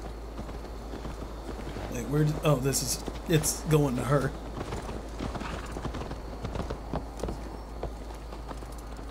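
Horse hooves clip-clop steadily in Assassin's Creed Valhalla, a close rhythmic trot running throughout while voices talk over part of it.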